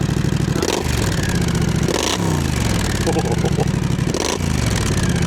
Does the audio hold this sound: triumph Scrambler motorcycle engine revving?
yes